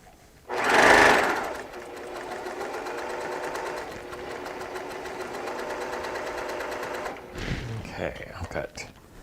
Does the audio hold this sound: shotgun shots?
no